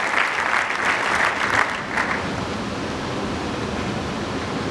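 A church congregation applauds Bishop Denis at a choir concert, giving a loud, dense round of clapping that is strongest early, then eases into a steadier, softer wash of applause.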